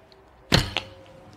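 An arrow from a Reaper survival takedown bow strikes a target with one sharp close thud, followed by a quick smaller knock, then quiet.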